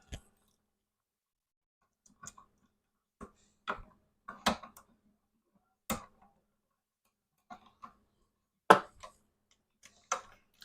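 A screw is tightened on a 3-way switch terminal, heard as sparse, sharp little clicks and ticks scattered irregularly over near silence, close by and fairly faint.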